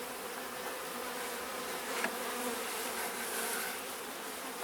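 Honey bees buzz in a freshly opened hive split, a steady close hum of many wings with no talking.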